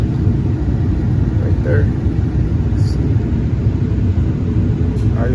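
A Ford F-250 Super Duty's 6.8 L V10 idles with a steady, loud low rumble throughout, while a voice speaks briefly over the engine.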